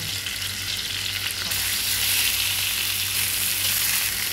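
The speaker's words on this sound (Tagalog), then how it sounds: "Lalagay na natin dito ang ating isda. So, pritong isda. Pritong tulingan." Fried mackerel tuna hitting a pan of hot oil with crushed garlic for coconut-milk adobo, giving a loud, steady close-up sizzle with a brief spatter burst near the start, no voices.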